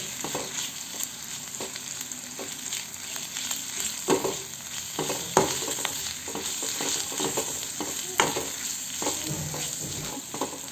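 Turmeric and onion paste frying and being stirred in a pan for an egg fry dish, with a steady sizzle broken by clinks and scrapes of the spoon, close and alone.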